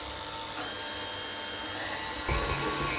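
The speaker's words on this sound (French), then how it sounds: "Allez, on met ça au batteur. Allez, on commence à battre" Stand mixer whipping doughnut dough, a steady motor whir with a broadband churning hiss that swells louder near the end as the beating intensifies, running continuously without voices.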